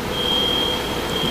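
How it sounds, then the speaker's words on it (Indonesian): A steady, high electronic alarm tone sounds continuously through a church service during a sermon, holding unbroken over a low murmur of room noise. "Ini bunyi alarm atau apa ya?"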